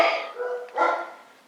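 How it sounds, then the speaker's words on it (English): A dog barks twice nearby, short sharp yaps with a brief gap between them, trailing off into quiet. "That's my dumb dog. Barking at nothing, I'm sure."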